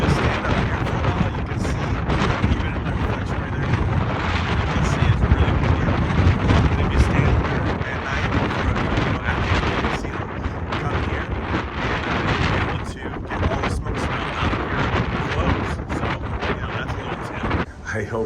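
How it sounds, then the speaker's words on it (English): Strong wind blowing across the open deck of a cruise ship, a loud continuous roaring buffet against the microphone that persists throughout with gusty fluctuations and faint talk buried beneath it. "I left the wind in the shot just because that was the whole point, the wind, to get the smoke smell."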